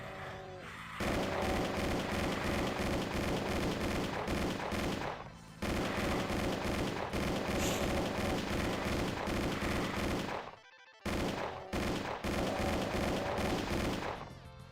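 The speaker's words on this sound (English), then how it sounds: "I think I can take a break from the gunshots." Rapid bursts of gunfire in the video game DOOM, dense loud volleys of shots that continue almost without pause, broken by a couple of brief gaps.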